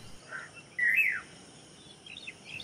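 A bulbul calls at a window during the rainy season: one loud, rising chirp stands out, with a few softer, shorter calls before and after it, and no talking.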